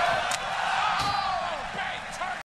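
Several sharp impacts land in a WWE match between Tyler Bate and an opponent as a counter clothesline reversal hits, ringing out over loud crowd noise and commentary.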